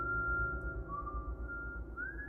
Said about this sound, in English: I'm not whistling at the Sasquatch.